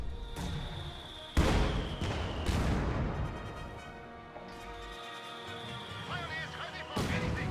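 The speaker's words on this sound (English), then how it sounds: "Mortar bombarding the house." Mortar rounds bombard a house in a strategy video game, with heavy booming impacts and crashes over a dense battle soundscape of scattered gunfire and effects, loud and repeated.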